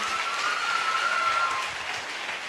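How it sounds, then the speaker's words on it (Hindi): Audience applause fills a hall at a stage event honouring a guest, a steady, dense clatter of many hands that swells briefly and then eases off slightly near the end, with no voices over it. "मैं चाहूंगी एक बार सर के लिए जोरदार तालियां होनी चाहिए"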